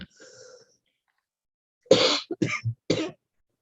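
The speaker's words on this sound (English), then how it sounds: "I'm coughing" A faint breathy sound, then a quick burst of three or four harsh coughs close to the microphone during a committee meeting, with silence between.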